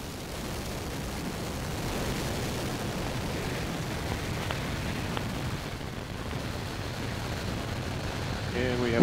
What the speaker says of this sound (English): Main engine ignition and liftoff of the Atlas V rocket with LRO LCROSS